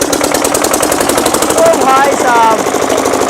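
A modified diesel engine starts up loud and hammering, with a fast, harsh knocking exhaust rattle that runs throughout, while a man calls out over it.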